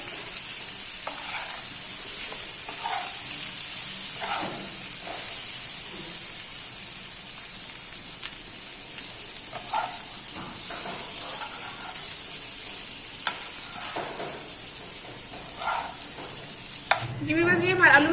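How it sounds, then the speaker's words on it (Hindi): Boiled potato pieces frying in a pan for a potato masala, giving a continuous moderate sizzle with repeated stirring scrapes at an uneven pace and brief faint sounds near the end. "अब हम इनको भून लेंगे अच्छी तरह।"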